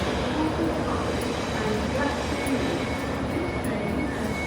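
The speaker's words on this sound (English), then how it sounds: "So it's this train on the left is ours." Trains sit at a railway station platform on a Lake District holiday route, giving a steady broadband rumble and hum with faint squeals, constant and moderately loud, with speech mixed into the ambience.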